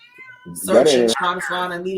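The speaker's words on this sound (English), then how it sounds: "Now that's my cat now." A pet cat meows loudly and close, a drawn-out wavering cry followed by shorter calls, with a person talking over it.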